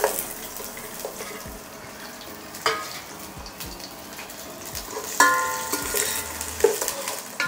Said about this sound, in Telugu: ఫస్ట్ ఆయిల్ కాగానే ఫస్ట్ మనం ఉల్లిగడ్డ వేసుకోవాలి